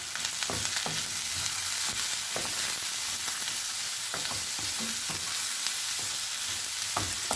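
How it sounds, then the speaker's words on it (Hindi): Chopped onion, tomato and capsicum frying over a high flame, a loud continuous sizzle broken by repeated scraping stirs throughout. "हाई फ्लेम पे सब्जियों को 2 मिनट तक पकाएंगे"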